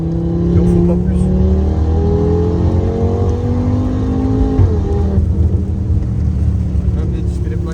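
A stage 2 tuned Audi RS3 8P engine revs hard and loud close by, its pitch sweeping up through the gears, then drops back and settles into a steady drone.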